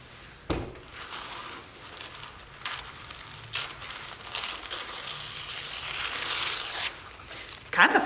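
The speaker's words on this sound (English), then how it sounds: "It's kind of fun just tearing up all of this paper" Sheets of colored paper in yellow, purple and pink are torn by hand into small pieces, giving a run of ripping and crinkling bursts that build into a longer continuous tear before a final sharp rip.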